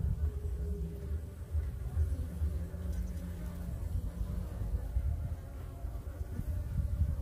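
Honeybees buzz steadily and close during a beehive inspection, a dense continuous drone of many insects with some rustling of frame handling underneath.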